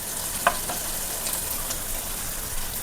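Onions frying in a pan for vegetable noodles, giving a steady close sizzle with a few brief stirring clinks and no talking.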